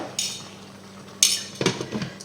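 Metal clanks and clinks of a lid being set onto a cooking pot on a low-heat stove while chicken blanquette with mushrooms simmers, a few sharp close contacts followed by softer rattling.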